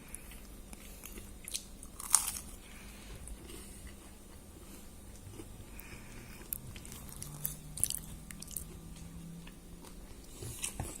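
Someone bites into a homemade croissant that turned out hard and biscuit-like, then chews with quiet, close crunching and a few sharper crackly bites, with no talking.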